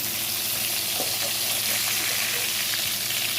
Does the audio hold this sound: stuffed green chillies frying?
yes